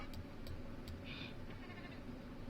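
A sheep bleats in The Sims 4 horse-ranch game, a single short game-style bleat over a steady low background hum, fairly quiet and heard alone without talk.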